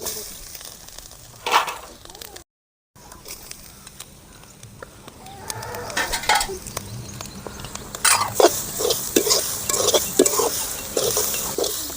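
Grated coconut being stirred and roasted in a pan, with scraping and light frying crackle that grows busier in the second half, plus occasional utensil knocks.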